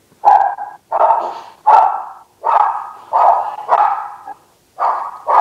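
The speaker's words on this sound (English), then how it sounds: "Someone's dog is not happy." A dog barks repeatedly and loudly nearby, about eight sharp barks in an uneven rhythm with short gaps, alone without other sounds.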